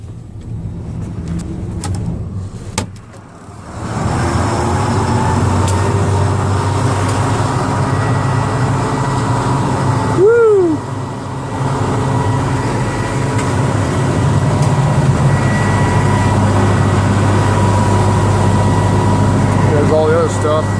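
Case IH 7230 combine on a farm cold-starting and then idling with a steady, loud diesel drone after a brief cranking gap, a rising whine partway through.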